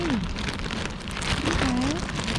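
Rain falls steadily outdoors as a dense, even hiss at close range. A few faint tonal chirps or whistles sit behind it.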